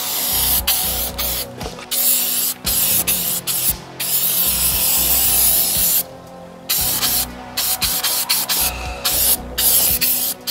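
Black underseal sprays from an aerosol onto the underside of a Datsun 280ZX during rust repair: loud, close, hissing bursts in repeated long blasts separated by brief pauses, with no talk.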